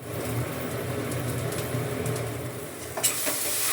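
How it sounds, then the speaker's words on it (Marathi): A wet ground masala paste fries in oil in a pan while it is stirred, making a continuous hissing sizzle with soft stirring and a sharp utensil scrape near the end. "तर बघा वाटण एकदम मस्त परतलंय"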